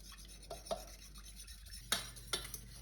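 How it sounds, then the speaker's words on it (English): Yogurt muffin batter stirred in a bowl, a few scattered scraping clicks and knocks of a utensil against the bowl, close and fairly quiet, with no talk. "I'm going to mix it for a moment."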